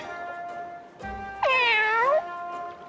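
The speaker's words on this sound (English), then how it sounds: "what's with the cat?" A cat meows in the video game Bravely Second, one long drawn-out, rising-and-falling meow heard clearly and loudly over steady game background music, with no talking.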